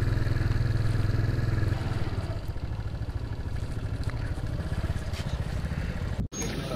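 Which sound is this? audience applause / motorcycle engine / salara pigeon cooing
motorcycle engine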